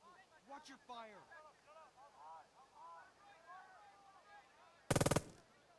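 Speech runs for several seconds, then a brief, loud burst of rapid artillery fire cracks out in the World War II video game Burden of Command, the Cisterna assault, before quiet returns.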